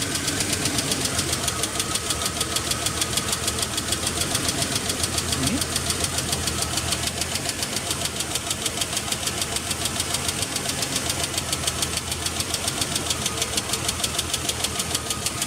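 A car engine runs with a misfire, cylinder 2 contributing weakly, giving a steady, continuous mechanical chatter with a rapid, slightly uneven knocking pulse throughout.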